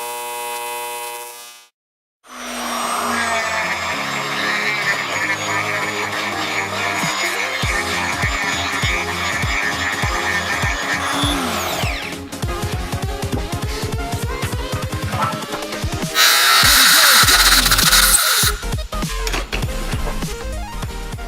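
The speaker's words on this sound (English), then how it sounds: "So, die grinder time." A die grinder port-matches an engine intake manifold, its high-pitched whine rising and falling as the bit bites the metal in long bursts with brief stops, close and loud, with a harsher scream near the end.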